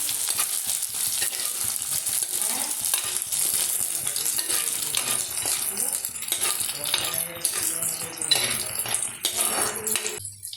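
Green chillies and curry leaves sauté in hot oil, a dense, close crackling sizzle with scraping and stirring clinks from a utensil against the pan.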